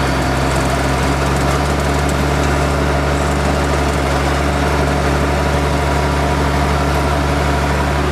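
A farm tractor with a power-shift transmission running steadily near the cab, its engine droning loud and constant with a low hum that swells slightly as the throttle opens, alone without talk.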